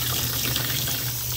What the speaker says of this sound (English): we're going to really rinse it out real good